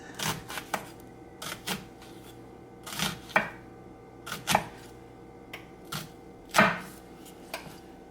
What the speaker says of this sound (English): So easy way to slice the onion.